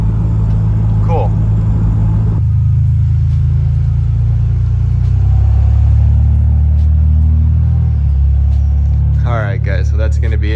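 A Toyota 4Runner with a 3.0 engine drives with a steady loud rumble, shifting gears and struggling into overdrive, the engine note changing through the run as someone talks over it.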